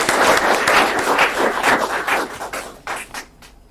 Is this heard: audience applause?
yes